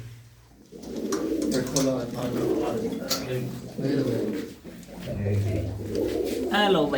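Champion pigeons cooing from a loft in Punjab, low soft coos repeating throughout beneath steady conversation between men close by.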